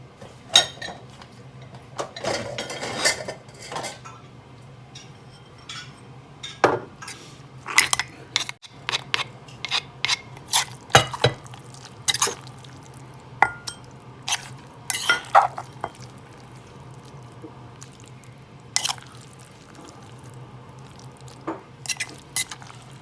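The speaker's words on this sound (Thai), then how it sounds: "ตักใส่ถ้วยกันค่ะ" A ladle scrapes and clinks against a pot and bowls while green tomato soup is served, with soft liquid drips and pours between sharp metallic knocks, close up and without talk.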